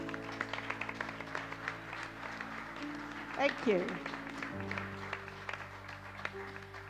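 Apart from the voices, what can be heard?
round of applause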